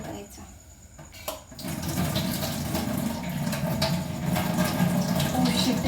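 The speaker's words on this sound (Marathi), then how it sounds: "गरम पाणी थंड पाणी टाकून थंड करायचं" Cold water poured from a tap onto hot boiled soya chunks in a home kitchen, a brief quiet clatter first, then a steady splashing stream of running water that holds to the end.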